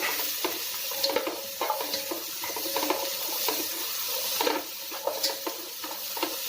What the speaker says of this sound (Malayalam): ഒന്ന് ഇളക്കി ഒന്ന് യോജിപ്പിക്കുകയാണ്.